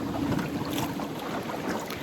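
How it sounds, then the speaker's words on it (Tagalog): Steady wind buffeting the microphone outdoors in Giethoorn, Netherlands, a constant rushing roar with a low hum underneath, no voices. "Mahangin sa labas."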